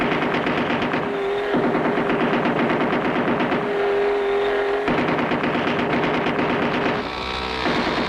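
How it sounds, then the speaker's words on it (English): Machine gun fire in a classic cartoon, a dense, continuous rattling burst with brief pauses in the stream, loud and close, layered over an engine-like drone, with no talking during the shooting. "we just fired our last round of ammunition, and they're still coming"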